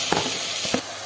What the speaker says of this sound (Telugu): ఇలా కొంచెం వేగినాయండి